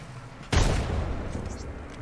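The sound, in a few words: grenade explosions in Apex Legends video game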